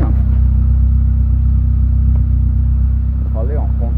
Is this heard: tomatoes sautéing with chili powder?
no